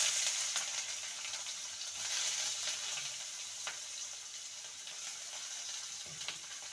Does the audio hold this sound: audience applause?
no